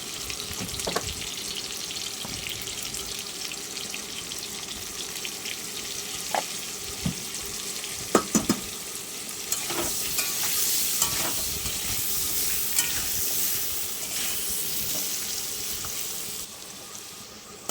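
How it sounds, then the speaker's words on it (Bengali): Potatoes fry with salt and turmeric in a pan with a continuous crackling sizzle and occasional sharp pops and clinks of stirring, close and fairly loud. "ওটা বেশ লাল লাল করে ভাজছি আলুটাকে।"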